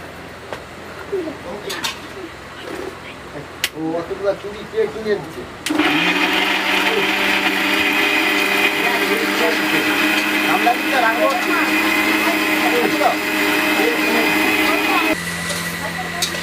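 A kitchen mixer grinder whirs loudly and steadily for about ten seconds as it grinds ginger and garlic into paste at a family home, preceded by voices and pigeons cooing nearby.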